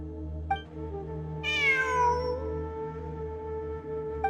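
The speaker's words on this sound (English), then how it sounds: "It really is a cat." A cat in the video game Genshin Impact lets out one clear, drawn-out meow that rises and then slides downward, heard alone over a low steady game ambience with soft clicks.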